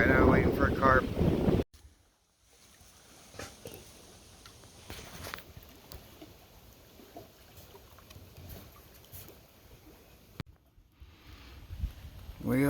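Strong wind at a lake buffets the microphone in a steady, rough roar with gusty swells, following a brief moment of talk at the start.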